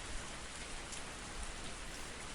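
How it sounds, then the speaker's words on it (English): Steady rain in the visual novel game Rebellions: Secret Game, a dense, even hiss of drops falling close by with no voices or other sounds over it. "Raindrops struck his hair and trickled down his cheek."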